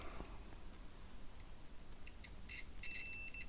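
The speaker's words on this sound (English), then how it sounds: "Okay, we have got a beep." A few faint high-pitched electronic beeps chirp near the end over a low background hum, with no one speaking.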